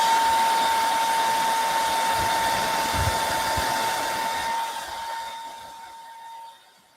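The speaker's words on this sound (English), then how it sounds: "then you can just use the hair blower." A hair dryer blows steadily and loudly at close range with a constant whine, used on isomalt sugar work at a Christmas celebration, then its airflow fades and trails off near the end.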